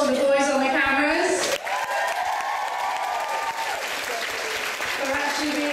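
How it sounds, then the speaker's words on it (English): Audience applause at a comedy semi-final, a continuous wash of clapping from a crowd, heard beneath a voice speaking through most of it. "a round of applause for the boys on the cameras"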